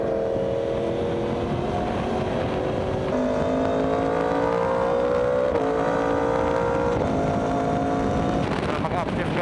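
A Yamaha R1 sports motorcycle on a ride: a steady, loud engine drone whose pitch climbs, drops and climbs again through successive upshifts, with wind noise throughout.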